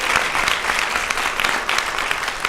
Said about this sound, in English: Can we give Madame C one more round of applause?